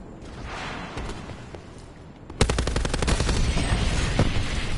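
Rapid automatic gunfire bursts out loudly midway through a shooter video game match, a fast steady stream of shots over a busy background of game noise, with no talking.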